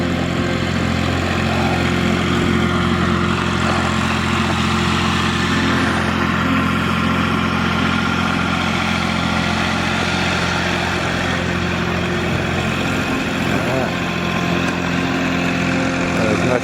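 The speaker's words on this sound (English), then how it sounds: "it's a little dinky forklift" A small forklift engine runs steadily at Castle Howard, a loud, close, unbroken mid-pitched drone with faint voices beneath it.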